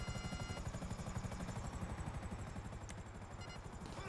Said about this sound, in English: Land my helicopter right there.